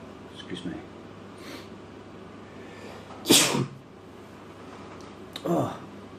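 A person tasting pipe tobacco lets out one sharp, loud sneeze, followed a couple of seconds later by a smaller second burst, against a quiet room.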